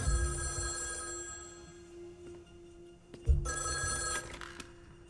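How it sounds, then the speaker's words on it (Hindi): A telephone bell rings in a hotel, two bursts of shrill ringing separated by a pause, moderately near against a quiet room. "जनाब, आपके लिए फोन है।"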